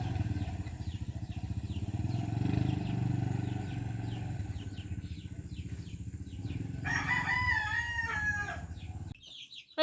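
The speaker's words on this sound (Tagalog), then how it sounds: "Pumili tayo ng mga manok." A rooster crows amid steady clucking chickens, with a low engine-like rumble underneath throughout.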